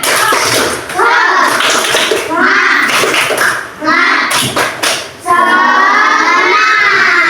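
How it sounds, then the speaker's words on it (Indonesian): A school class performs a rhythmic spirit clap, bursts of group clapping in patterned rounds mixed with children's chanting and shouting, loud and close, ending in a sustained wash of voices. "Tepuk semangat."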